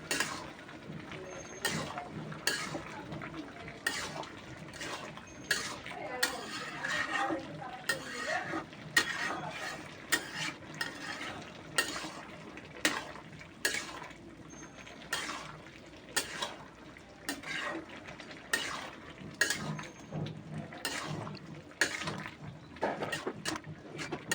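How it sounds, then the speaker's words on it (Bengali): Bottle gourd curry with coriander leaves being stirred in a pot after the lid comes off, heard as repeated scraping and knocking strokes in an irregular rhythm, close by over a low simmering hiss. "আবার ঢাকনা খুলে আবার নাড়াচাড়া করলাম"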